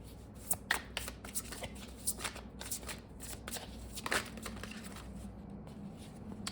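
Tarot cards shuffled by hand in a quiet room, giving a run of crisp riffling and slapping bursts that come in irregular clusters over a low steady hum.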